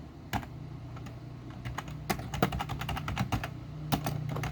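Code is typed on a computer keyboard in quick, uneven bursts of crisp clicks and key taps, close and clear with short pauses between runs.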